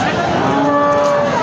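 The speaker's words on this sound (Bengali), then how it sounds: "এখন দেখতে পাচ্ছেন খুবই সুন্দর সুন্দর গরু কিন্তু আমদানি হয়েছে আজকের হাটে" A cow at the Bogura Dhap cattle market gives a long, loud, steady moo lasting the whole moment, with market bustle faintly underneath.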